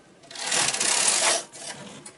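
Domestic knitting machine carriage pushed back across a row for a sweater front with turning and folding columns set, a steady close rasping whir lasting about a second, then a softer trailing slide.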